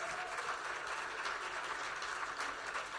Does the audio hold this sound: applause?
yes